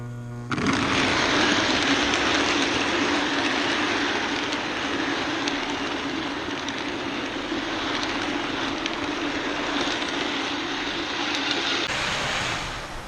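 A 1986 Lionel model train hauling a Chicago and Alton dining car runs past on track, a steady dense rolling rumble and whir that holds loud and even for many seconds before easing off at the end.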